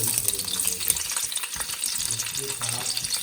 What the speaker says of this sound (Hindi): ये देखिए प्याज ऑयल में चला गया।